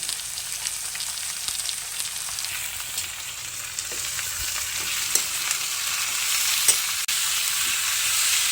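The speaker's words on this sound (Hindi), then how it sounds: "अदरक लहसुन डालने के बाद कम से कम 3 से 4 मिनट तक भुनेंगे इसे।" Ginger and garlic fry in a pan for jackfruit curry, a steady close sizzle that swells slightly over time, broken by a few sharp clicks and scrapes of stirring.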